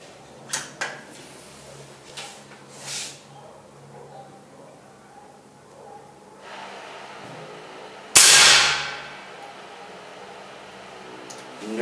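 A PCP air rifle fitted with a new suppressor fires a single sharp, near shot, rising abruptly from quiet and fading over about a second, with a few faint handling clicks earlier.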